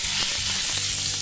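Elk backstrap searing in a hot pan gives off a loud, steady, close sizzle and crackle that continues without a break.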